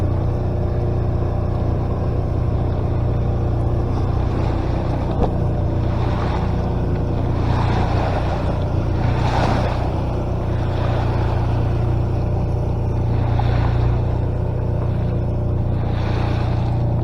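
A big, fast speedboat passes off the Balearic coast near Palma: a steady, loud engine drone and rushing water rumble that holds for the whole stretch, with wind across it.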